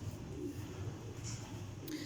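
Pigeons, a pure Teddy breed, cooing softly at a loft in Jhelum, a low throaty rolling coo repeating over a faint background hiss, quiet and a little distant.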